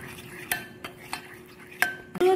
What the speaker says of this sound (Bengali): আর যে বাটির হাফ বাটি সাদা তেল নিলাম সেই বাটিরে আমি হাফ বাটি চিনির গুঁড়ো দিচ্ছি। খুব ভালো করে এবার মিশিয়ে নিতে হবে।